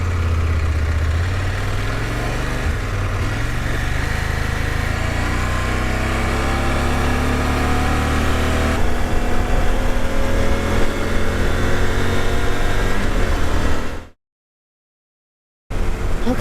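A motorcycle engine drones steadily while riding along Interstate 81, loud, close and unbroken with shifting pitch, then cutting out abruptly to near silence for about two seconds before returning.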